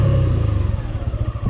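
Suzuki Intruder 150 motorcycle braking hard to a near stop, its engine rumble pulsing and fading as the bike slows, loud and close with no talk.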